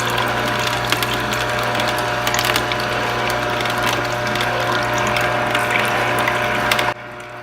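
Electric juicer processing oranges, alongside carrot and cucumber, gives a loud, steady motor whir with a rattling, ratchet-like mechanical grind that runs continuously, then drops off abruptly near the end.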